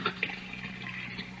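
Hot water runs from a tap into a bathroom sink in a radio drama scene, a soft, steady splashing trickle heard close and faint for a brief moment with no talk.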